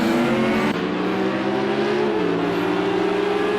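GT3 race cars lapping Laguna Seca in a racing game, loud engine drones with rising and falling pitch as gears shift, several cars layered together and steady throughout.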